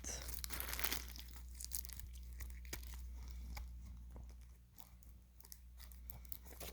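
A Piofiore unboxing: the package is handled with crinkling, tearing plastic and paper at close range, irregular rustles and crunches, with faint talk in the background.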